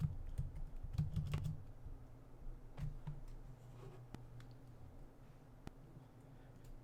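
Computer keyboard keys pressed while playing a video game, including the spacebar for jumping: a quiet run of soft, irregular clicks and taps up close, with no talking.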